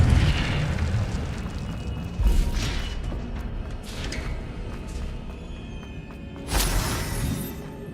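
A fiery Incendio spell blast from the video game Hogwarts Legacy, a dense roaring burst with sharp flaring bursts near the start, middle and end, loud and close with no talking.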